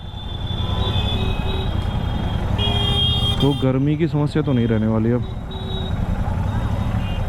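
Evening road traffic in Bulandshahr rumbles steadily close by, and one car horn sounds a long held blast midway while someone talks over the noise.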